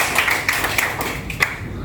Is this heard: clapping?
yes